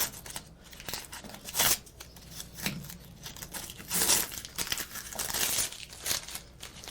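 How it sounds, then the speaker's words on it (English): Extra tape is peeled off and crumpled while a rifle display flag cross is unwrapped, giving close, moderately quiet rustling, tearing and crinkling in uneven bursts. "Let's get rid of this extra tape."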